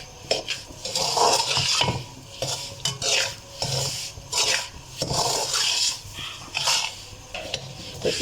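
Semolina is stirred in oil in a pan over a low flame for halwa, a spoon scraping and rubbing in steady repeated strokes with faint sizzling beneath, close and alone without talk.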